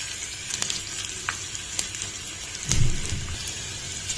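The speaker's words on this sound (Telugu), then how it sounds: "మన పోపు వేగిపోయింది కదండి" A tempering of mustard seeds, a red chilli, garlic cloves and asafoetida frying in hot oil for a tamarind-leaf chutney, crackling and sizzling steadily up close, with a louder spattering burst near the end and no talking.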